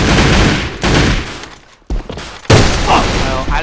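Rapid bursts of gunfire from the video game A.V.A: loud, dense volleys of shots that cut out briefly, then resume with heavy automatic fire.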